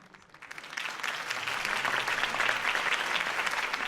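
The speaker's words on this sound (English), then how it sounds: "could have heard that applause" Steady applause from a crowd, building in the first second and then holding at a dense, even clatter of many hands clapping.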